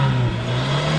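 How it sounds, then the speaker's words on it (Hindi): A petrol engine on a Toyota Corolla 86 hums steadily at a raised idle, close and fairly loud, with a slight dip in the rev partway through. "माशाल्लाह गाड़ी का बहुत ही ज़बरदस्त साउंड है, आप लोगों ने देख लिया।"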